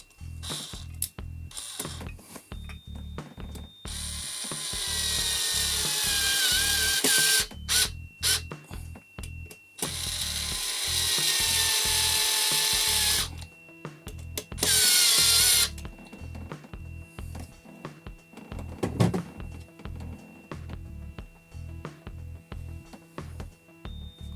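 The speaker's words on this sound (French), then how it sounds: "On prend le petit tournevis Ishika qui marche très bien." A small Ishika screwdriver, apparently powered, whirs in several loud bursts of a few seconds each, separated by clicks and handling noises while a home cinema is set up in a laundry room.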